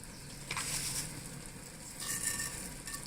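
Cumin and mustard seeds fry in a tablespoon of hot oil, giving a faint, steady sizzle with two brief louder crackling bursts, heard close and alone.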